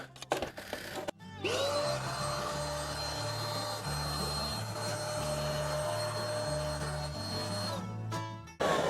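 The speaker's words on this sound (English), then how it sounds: "Hit that with the vacuum cleaner." A vacuum cleaner motor starts up and runs steadily at close range with a loud whine, its pitch wavering slightly, then cuts off near the end, while cleaning a wood pellet stove.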